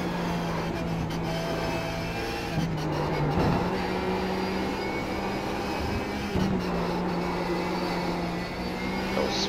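A Porsche 911 GT3 engine in iRacing at Suzuka drones steadily and loudly throughout, with the pitch climbing and falling as the throttle works, broken by brief shifts and blips.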